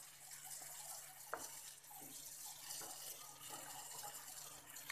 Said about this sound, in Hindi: हल्का सा पानी और डालते हैं।